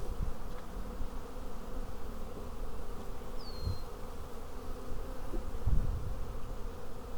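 Honey bees buzz around an opened hive during a spring hive reversal, a continuous close droning swarm hum with occasional louder passes near the listener.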